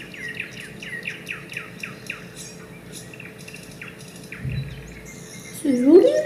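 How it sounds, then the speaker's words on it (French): Small birds chirp and tweet in a rapid series of short calls behind a faint outdoor background at a political party festival, with a brief louder squawk near the end. "être pas mal avec les piaillements des piafs derrière."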